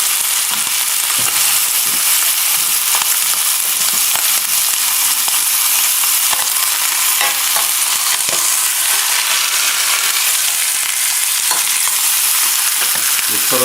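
Veal breast browns in a hot pan, a steady, loud, close sizzle and crackle of frying fat running without pause, with small pops and occasional stirring scrapes and no talk.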